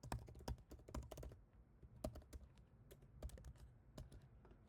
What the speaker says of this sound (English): let me type it quickly